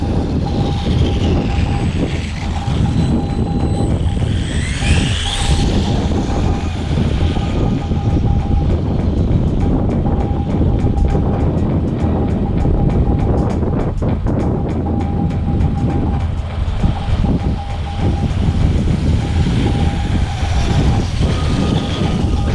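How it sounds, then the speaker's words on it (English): RC crawler car pushed near full throttle outdoors in wind, a continuous loud motor whine with gusty rumble running throughout. "Almost get it up to full throttle. It starts to get a little squirrely."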